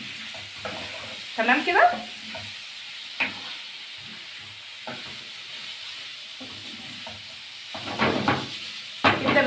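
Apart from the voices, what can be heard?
liver frying and being stirred in a pan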